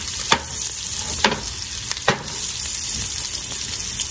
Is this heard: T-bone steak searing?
yes